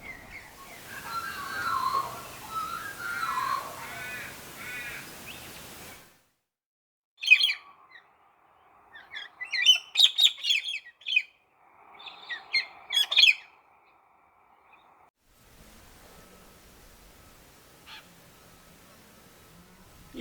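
Galah cockatoos give harsh squawking calls in short bursts, loud and close, with quieter stretches between them and no talking.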